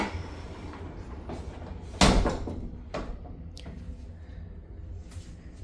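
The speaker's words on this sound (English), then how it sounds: "This is just a mirror with a door that closes to the bathroom." A mirrored door to the bathroom in an Animal Kingdom Lodge hotel room swings shut with a single sharp thud, close and moderately loud, followed by a few faint softer knocks against a quiet room hum.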